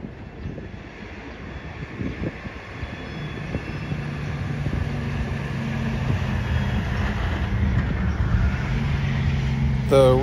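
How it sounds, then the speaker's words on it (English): An empty CSX coal train pulled by four GE locomotives rumbles past, a loud steady roar of engines and rolling wagons that builds over time, with a brief sharp squeal at the very end. "It was on that bridge that an empty CSX coal train surprised us"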